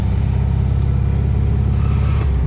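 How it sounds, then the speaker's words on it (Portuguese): A 1979 Volkswagen Fusca (Beetle) engine drones loud and close while driving, holding a steady throbbing rev throughout with a slight shift in pitch near the end. "Meu pai dando uma volta de Fusca. É de 1979, é isso?"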